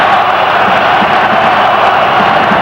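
A large stadium crowd in Vienna roars and cheers steadily at a 1998 World Cup qualifying football match between Austria and Sweden, a dense sustained wash of voices.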